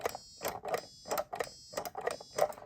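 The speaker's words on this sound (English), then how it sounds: "you can hear the piezoelectric buzzer actually emit a different tone" A piezoelectric buzzer on a prototype device beeps in a regular series of short tones, about eight pulses with pauses between them. Each beep is clear and close, with bright high overtones and the note shifting slightly.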